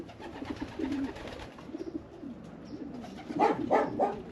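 Racing pigeons coo in a loft, a steady low murmur of soft repeated calls that swells louder near the end, with no talk over it.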